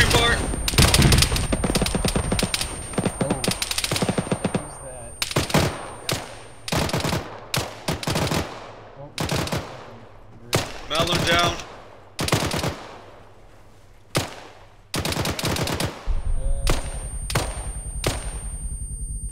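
Gunfire engaging a BTR in Arma on the Takistan map, loud machine-gun bursts in repeated volleys separated by short pauses, with some voices heard between them.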